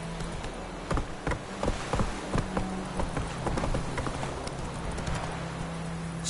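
Roach the horse's hooves clip-clop in a steady walking rhythm in The Witcher 3, each footfall crisp and close over a quiet ambient hum with faint insect-like buzzing.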